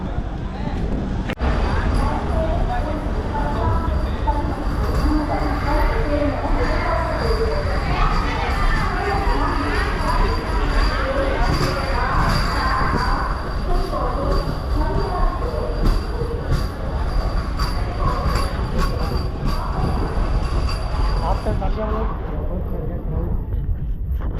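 A MEMU express train leaving Thanjavur rumbles steadily, with wheel noise and metallic squeal, while people chatter and children's voices carry throughout the busy carriage.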